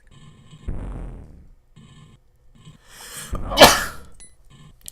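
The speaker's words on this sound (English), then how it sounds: "I'm sorry about all the sneezing" Two sneezes from one person during a game session, the first a moderate burst and the second louder and sharper, each preceded by a short intake of breath, close and alone with no talk.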